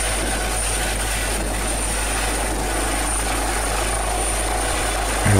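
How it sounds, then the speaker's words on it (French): In Minecraft, a low droning aircraft engine rumbles steadily as an airplane passes, a continuous broad roar with a faint high whine above it, growing slightly louder at the end. "Ah, écoutez, on entend un avion passer."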